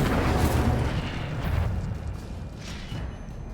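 Incendio fire spell cast in Hogwarts Legacy, a loud whooshing, booming burst of flame that swells and then fades into a rumbling tail.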